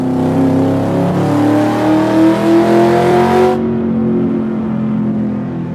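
Fast cars race by with engines loudly revving, the pitch climbing steadily as they accelerate close by, then cutting off abruptly into a lower, fading roar.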